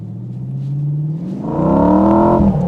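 A TVR Chimaera 500 pulls hard in first gear with wheel spin, its loud engine note heard close from inside the car and climbing steadily in pitch as the revs rise.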